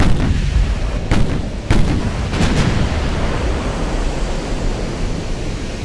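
Battleship main guns firing in the naval game Ultimate Admiral Dreadnoughts, several sharp booms over a constant roaring wash of sea and battle noise, loud and close.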